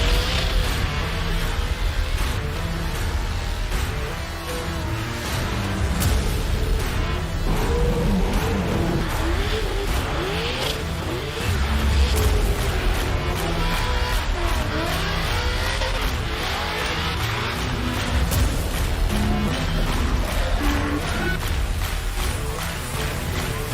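Race cars lapping the road course at a GRIDLIFE event at NOLA Motorsports Park, engines roaring steadily and loudly throughout with revving and passing cars blending into a continuous wall of motor noise.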